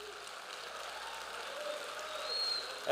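An audience at a church conference applauding, a steady wash of clapping that swells toward the end, fairly distant and moderate in level.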